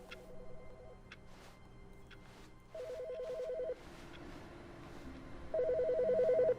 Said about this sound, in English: Wait, the phone's ringing.